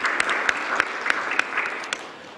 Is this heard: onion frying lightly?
no